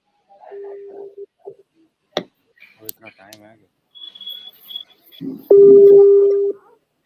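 A phone call is placed during an online medical conference session, with short call tones and clicks, followed by a sustained tone near the end, clear and close, with no one speaking over it.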